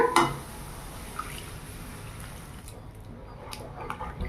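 Leftover sugar syrup is poured into gram flour halwa in a pan, a brief splashing pour at the start followed by soft liquid sizzling and bubbling, fairly close and quiet.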